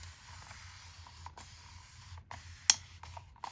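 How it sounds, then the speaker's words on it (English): A handheld spray bottle mists water onto a watercolor painting in a few quiet, short hissing bursts, one sharper and louder than the rest, over faint room tone with no talking. "Even though it's watercolor, I'm still spraying it."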